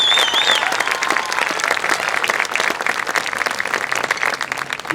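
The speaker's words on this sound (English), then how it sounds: "Let's give them a big round of applause." Audience at a marching band premiere giving a sustained round of applause, thick, even clapping throughout with a few faint whistles near the start.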